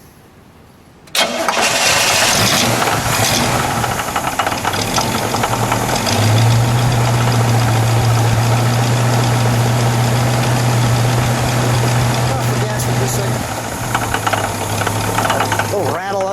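A 1967 Pontiac Firebird convertible's 400 CI V8 fires up loudly after a second of quiet, then settles into a steady, rumbling idle with a lumpy low pulse, close by, with a voice speaking over it.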